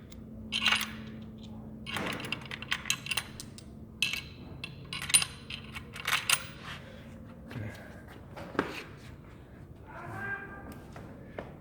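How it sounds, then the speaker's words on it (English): Special metal bolts drop one after another into place on a car flywheel during a DQ500 AWD to K-series adapter kit installation, giving a scattered series of light metallic clinks and taps over a quiet workshop background. "we're first gonna drop all our special bolts. Let them all drop in."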